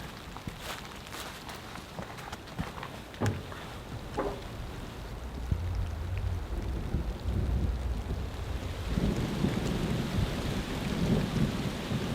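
Steady heavy rain falls throughout at an off-grid mountain campsite, with a few sharp taps and knocks early on and a deep rumble building underneath toward the end.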